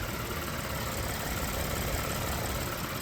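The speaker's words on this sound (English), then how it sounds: "Twin turbo V6." A 2022–2023 Toyota Tundra's twin-turbo V6 idling, a steady, dense, unbroken rumble heard fairly close and alone, with no change in pitch or level.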